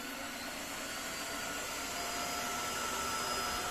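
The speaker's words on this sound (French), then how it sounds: "on va aspirer tout ça" A Tenco IFLOOR3 wet vacuum cleaner sucking up spilled egg and mayonnaise, a loud, steady whining motor drone that runs unbroken and close throughout.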